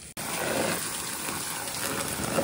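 Dirty condensate water pours from an HVAC cooling unit at a government building, a steady gushing, splashing flow that runs unbroken after a brief cut at the start.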